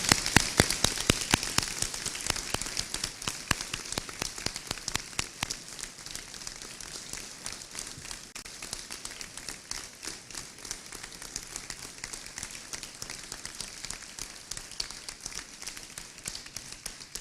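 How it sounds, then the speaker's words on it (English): At a 2017 delegate forum of the Culpeper, Virginia Chamber of Commerce, an audience claps for the delegates. The applause is a dense, steady patter that starts strong and slowly thins out. "I'd like to give a big round of applause to these guys who did such a great"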